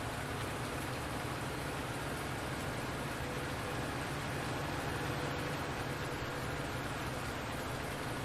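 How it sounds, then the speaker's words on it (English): Steady rain falling in Farming Simulator 19, a dense, even hiss of rain and raindrops on surfaces that runs unbroken from start to finish with no voices. "Damn rain. I'm getting soaking wet."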